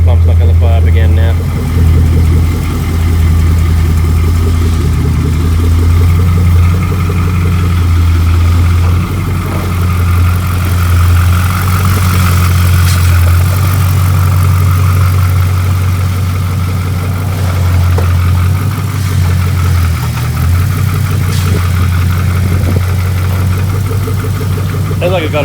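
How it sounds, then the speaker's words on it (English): A Nissan R33 Skyline engine idles loud and close with a steady low drone and a ticking exhaust leak, while a voice talks over the running motor. "Sounds like I've got a bit of an exhaust leak there."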